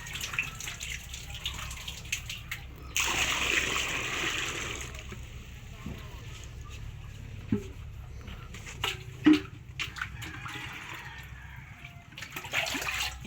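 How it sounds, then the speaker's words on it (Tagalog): Water is scooped and poured from a village well in Kawit, Manito, Albay, with sloshing, splashing and pouring sounds coming in bursts near the microphone, a few knocks of the container, and someone talking intermittently over it. "ito po yung pagsalok ng tubig dito ha"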